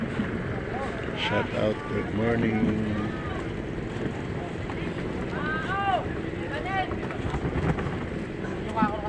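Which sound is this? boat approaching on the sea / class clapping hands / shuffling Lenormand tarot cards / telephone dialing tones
boat approaching on the sea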